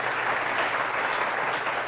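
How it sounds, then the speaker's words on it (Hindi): A seated audience at a comedy event for senior citizens claps steadily and loudly, dense applause throughout with no speech on top. "आप बहुत सारी तालियां शुमाइल साहब के लिए भी"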